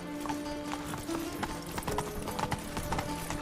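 Roach, the horse in The Witcher 3, gallops with a quick, steady clip-clop of hooves, close and fairly loud over a continuous musical backdrop.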